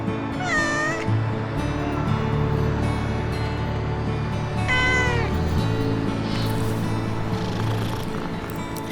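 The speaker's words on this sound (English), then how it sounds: "Look, Tia, the kitten is so happy eating all the food" A hungry kitten meows a few times, loud and close, over a low steady background hum, with the cries spaced several seconds apart.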